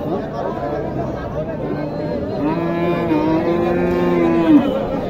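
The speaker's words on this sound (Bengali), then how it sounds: "উঁচু একটা বড় গরু" A tall, large cow lets out a long, deep moo close by at the Mataji cattle market in Naogaon, Bangladesh, rising out of a background of people chattering.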